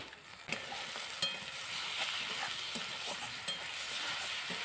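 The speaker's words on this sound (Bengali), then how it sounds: "এবার ভালো করে ভেজে নেব।" Cumin, garlic and dried red chilli paste frying in a pan for a chicken curry, a steady close sizzle broken by a few soft stirring scrapes and clicks, with no voices.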